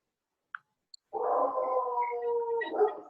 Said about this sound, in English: Somebody's got a dog barking.